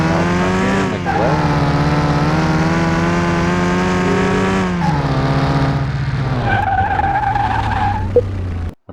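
In Car Mechanic Simulator 2021, a car brakes hard during a suspension test drive, its tyres letting out a loud, sustained squeal and skid over engine drone that lasts several seconds before ending abruptly.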